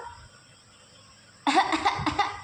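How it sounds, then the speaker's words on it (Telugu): After a quiet stretch, a child coughs in a quick burst of several harsh, close coughs. "మళ్ళీ సార్ దగ్గు"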